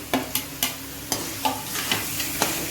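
Pointed gourd and potatoes are stirred into spice masala in a pan, a soft background sizzle broken by about nine sharp spatula scrapes and knocks at an irregular pace, close and with no talk.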